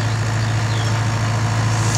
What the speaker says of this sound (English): I don't know if this tractor can handle bailing